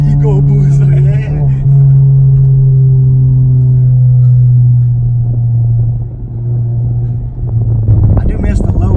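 Ford EcoBoost engine fitted with a big turbo and making about 400 hp, a loud steady drone running close throughout with a strong low hum, a slight dip near the end, then rising roughness at the finish.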